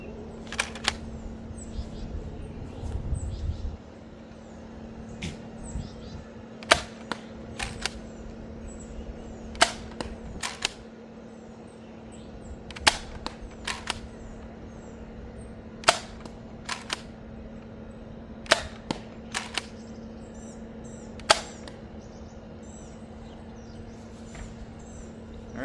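An Adventure Force Delta Pro toy blaster fires Dart Zone Ember darts at a target about 35 feet away. Sharp, snappy shots come singly and in quick pairs, repeated many times over a low background hum.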